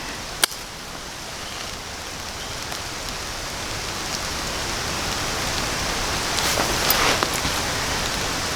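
Steady, dense rain pouring outdoors, a constant broadband hiss with a few sharper drops or knocks, close and fairly loud throughout with no talk.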